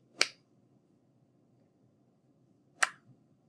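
Two sharp, crisp hand claps in a rhythm exercise, spaced about two and a half seconds apart, close and clean over a faint low room murmur.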